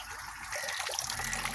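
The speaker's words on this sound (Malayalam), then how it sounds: "ഇതാണ് വാട്ടർ പമ്പ്." Water pump circulating fish pond water on a home fish farm, a steady gushing, trickling flow heard up close and continuous throughout.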